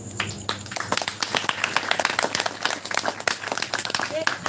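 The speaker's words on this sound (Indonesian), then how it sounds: "Tepuk tangan untuk kampus kalian, kampus Sinau" Audience at a Sinaoe Bareng campus event giving a round of applause for their campus, steady crowd clapping throughout, mixed with cheering voices and a speaker talking over it.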